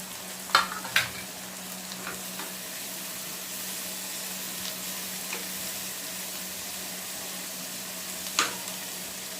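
Browned onion and freshly added tomato fry in a pan with a soft, steady sizzle, while a few sharp clinks from stirring ring out near the start and end.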